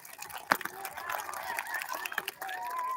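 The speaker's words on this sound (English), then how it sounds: "Give yourself a round of applause for coming to our assembly." A school audience at the first assembly of the 2021 school year claps and cheers in a sustained, noisy burst, with children's voices and shouts mixed into the applause.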